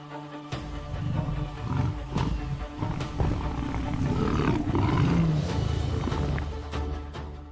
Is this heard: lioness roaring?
yes